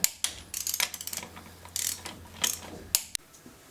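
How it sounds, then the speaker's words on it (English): A torque wrench tightening wheel adapter lug nuts gives rapid ratcheting clicks in short runs, close and crisp, with brief pauses between strokes. "you can go ahead and torque it to spec. And again, crisscross pattern."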